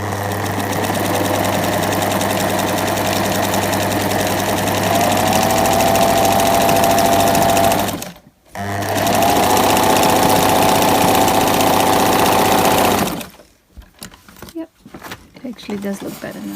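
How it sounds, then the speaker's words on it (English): A sewing machine runs a zigzag stitch on fabric scraps in a loud, steady mechanical whirring drone, pauses briefly, runs again, then stops with a few scattered clicks and handling noises. "Suppose I could go again with the zigzag stitch."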